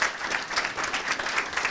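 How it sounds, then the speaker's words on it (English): Audience applause fills the room, a steady wash of clapping hands at moderate loudness throughout, with no speech over it. "Good, thanks Shane, give him a round of applause."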